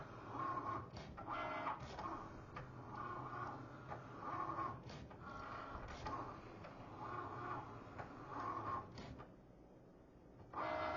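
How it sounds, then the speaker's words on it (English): A Cricut cutting machine slices out a sheet of vinyl decals, giving a steady whirring mechanical hum with repeated rhythmic carriage sweeps and ticking passes, close and continuous before easing off near the end. "And it will cut all of your decals out the way you've got them designed in the Cricut."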